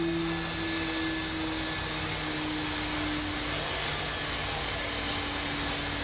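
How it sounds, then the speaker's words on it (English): A robot lifting a box with vacuum suction produces a steady, loud whooshing hiss with a constant low hum underneath, unbroken and unchanging throughout. "Is it using, like, a vacuum to suck the box?"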